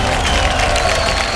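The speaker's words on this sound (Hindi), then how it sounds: "इन सब फिल्मों के लिए जोरदार तालियां हो जाए" Loud, dense applause and crowd noise fill an award show hall, steady and continuous throughout with no single voice standing out.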